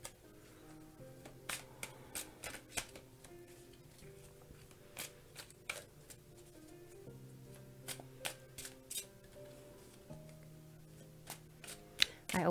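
Tarot cards being shuffled by hand, sparse crisp snaps and riffles in irregular short bursts over soft background music, close and fairly quiet.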